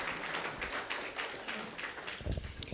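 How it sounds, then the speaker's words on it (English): A debate audience claps for the interns, with scattered, fairly faint applause and a few louder taps near the end before it thins out. "So a round of applause for them"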